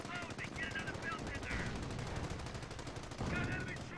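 Rapid .30 cal machine gun bursts rattle through a Company of Heroes battle, dense and continuous over four seconds, with other gunfire mixed in and a voice talking underneath.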